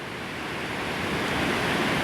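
Running water at the Reekie Linn waterfalls, a steady broadband rush heard at a distance and unbroken throughout, with no voices.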